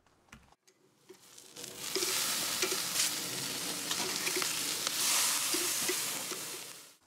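Mushroom chops sizzle steadily on an outdoor grill, a dense continuous frying hiss that swells after a quiet start and holds loud, with scattered small pops and crackles throughout.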